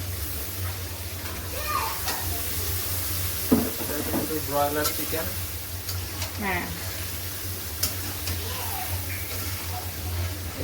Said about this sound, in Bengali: এই এবারে আমি এর সাথে মাংসটা দিয়ে দেবো